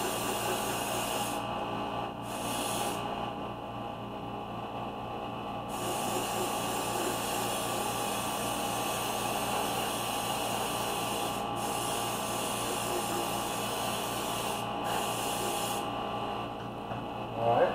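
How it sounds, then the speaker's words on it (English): Aqua blue diamond spray paint hisses steadily from a can onto a custom tumbler, a continuous broadband spray running nearly the whole time with a few brief pauses between passes. "so all I'm going to do is come around and spray it on top"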